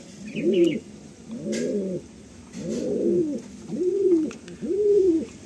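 Madrasi pigeons coo in a loft in close, low rolling calls, five throaty phrases repeating at a steady pace with brief pauses between them.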